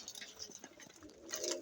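Hungry pigeons newly brought home coo softly, a faint, low murmur of several birds rising slightly toward the end.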